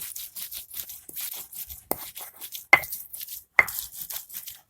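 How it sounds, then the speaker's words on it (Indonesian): Red chili peppers are ground finely by hand for a sambalado jengkol dish. Close, repeated scraping and rubbing strokes come in uneven bursts, with several sharp knocks of the grinding tool. "Cabai merahnya kita giling halus."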